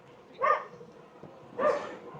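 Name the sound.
dog barking at passers-by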